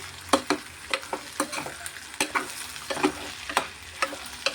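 Vegetables fry in a pan for a homestyle curry, with a spatula stirring in regular scraping strokes over a soft, continuous sizzle, close up and without any talk.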